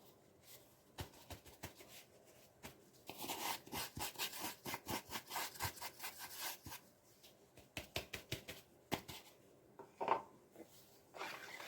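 White sugar being mixed into brownie batter in a bowl, with a run of repeated scraping, rubbing strokes at an uneven rhythm, close by and fairly quiet, with no voices.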